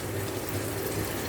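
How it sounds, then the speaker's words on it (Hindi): A little soup is poured into a pot of rice, giving a soft, steady liquid pour close by with no voices. "थोड़ा सा सूप जो मसाला इसमें लग गया था उसमें डाल दिया।"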